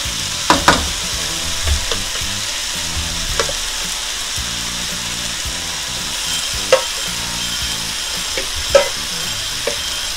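Shrimp for shrimp chow mein with Chinese cabbage fry in a hot pan, a steady close sizzle broken by a few sharp clinks and stirring scrapes.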